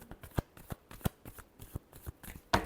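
A deck of cards being shuffled by hand in short, crisp riffling bursts, about a dozen quick flutters in irregular rhythm, close and clear with no talk.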